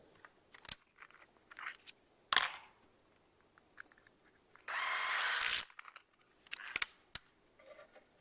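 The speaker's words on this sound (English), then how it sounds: "then we'll drill it with some 3/32, countersink them on the other side," A drill bores 3/32 rivet holes in a panel during a NASCAR Toyota Supra race car build, one sustained burst of drilling among scattered clicks and handling noises, fairly quiet and close.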